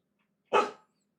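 A dog lets out one sharp, close bark in otherwise near silence.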